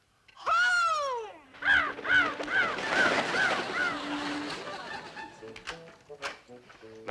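Cartoon crows caw in a flurry, a loud descending squawk followed by a rapid run of harsh repeated caws that overlap and thin out, with light noise beneath.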